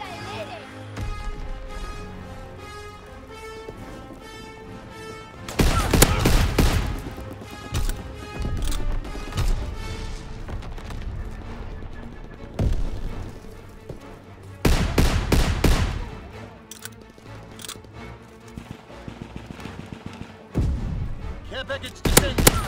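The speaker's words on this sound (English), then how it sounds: "Fighter pilot inbound, strafing the target." A fighter plane strafing run in Call of Duty: WWII, with repeated bursts of heavy gunfire and explosive thuds over game music and spoken announcer callouts.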